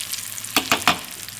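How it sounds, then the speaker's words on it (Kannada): Dried red chillies and curry leaves crackling in hot oil, a close sizzle broken by three quick scraping stirs in a row, heard alone without talk. "ಒಂದು 4 ಒಣಗಿದ ಮೆಣಸಿನ್ಕಾಯಿ, ಒಂದು ಸ್ವಲ್ಪ ಕರಿಬೇವಿನ ಸೊಪ್ಪು, ಇಷ್ಟು ಹಾಕಿ ಮಿಕ್ಸ್ ಮಾಡ್ತಿದ್ದೀನಿ"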